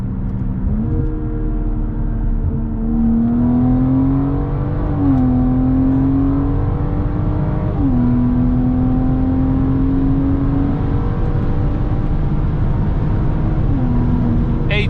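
A BMW engine revs hard under acceleration, its droning pitch climbing steadily and dropping briefly at each gear shift near 6,000 RPM, loud and close from inside the car throughout.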